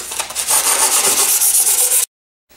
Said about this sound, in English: I've made my version of Lucille to sand the interior of the body tube where the centering rings are going to touch.